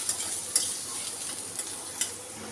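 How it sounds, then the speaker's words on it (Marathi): Spices such as black pepper powder and biryani masala sautéing in oil for a cracked-wheat pulao, giving a soft, steady sizzle with a few light stirring scrapes at the start, middle and near the end. "हे सर्व मसाले परतून घ्या तेलामध्ये"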